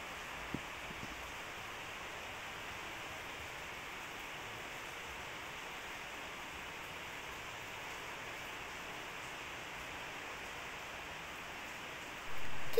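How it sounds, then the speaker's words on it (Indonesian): Heavy rain pours down outside a house at night, a steady, even hiss that runs unbroken from start to end at fairly low level, with no voices over it. "Dan suara hujan di luar itu cukup deras ya teman-teman."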